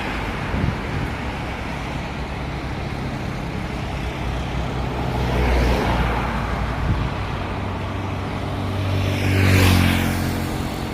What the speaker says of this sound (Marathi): बघा गाड्या